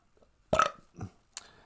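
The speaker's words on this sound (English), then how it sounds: "I don't know the Ojibwe word for burp" A person burps once, a loud, close belch followed by a couple of softer throaty sounds, with quiet before and after.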